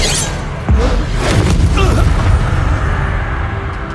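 Spells cast in combat in the Hogwarts Legacy video game: a loud booming impact, then crackling magical bursts and whooshes over a dense rumbling background, close and continuous.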